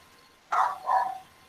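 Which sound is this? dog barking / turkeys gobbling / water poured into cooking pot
dog barking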